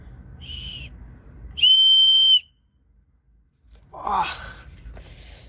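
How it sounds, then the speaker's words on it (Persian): A whistle from an unboxed product is blown for a test: a short faint toot, then a loud steady shrill blast of under a second, followed after a pause by rougher breathy whistling. "من این سوتر رو میخوام الان هم تست کنم"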